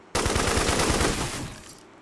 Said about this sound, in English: Maybe go for the heavy machine gun.